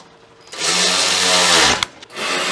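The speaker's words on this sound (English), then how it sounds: "And the compressor kicked on, of course." An air compressor kicks on in a workshop, a loud motor whine with a falling low drone that runs for over a second, cuts off abruptly, then a softer mechanical rumble resumes.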